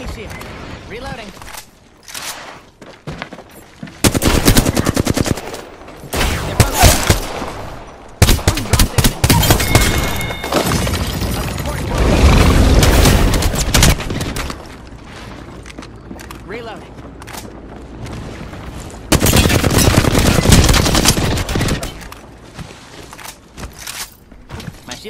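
Gunfire in the battle royale shooter Apex Legends, loud bursts of automatic weapon fire and single shots coming in clustered volleys over about 25 seconds, close and punchy, with footsteps and in-game voice lines heard between the bursts.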